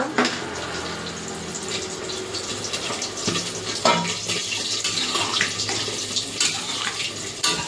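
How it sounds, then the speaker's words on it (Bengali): Hot water going into chickpea masala after the spiced chickpeas are sautéed, a steady pouring and splashing rush with some sizzle, close and fairly loud, lasting throughout without talk. "এবার আমি এখানে গরম জল দিয়ে দেব"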